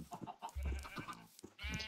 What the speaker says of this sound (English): Got a ludicrous number of chickens.